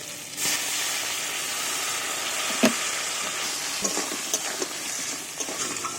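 Bengali crab curry (kakra kosha) sizzles in a hot pan as a little water goes in, giving a steady loud hiss with faint stirring clicks and pops throughout.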